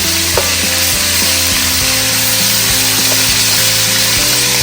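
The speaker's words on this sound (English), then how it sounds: "Now I'll put in my final batch and I'll fry these up" Chicken pieces, the final batch, sizzle and fry in oil in a pot for a Jamaican coconut chicken, a dense steady hiss with scattered clinks and low rumbling throughout, no talking.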